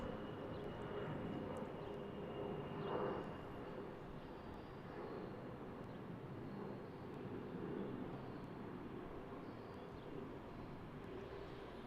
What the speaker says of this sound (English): Goodbye to our tiny CRJ.